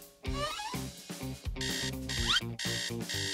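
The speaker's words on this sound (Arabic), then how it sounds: "هو المنبه بيرن؟" An alarm clock rings in repeated bursts of bright tones against a busy background of music and sound effects, moderately loud.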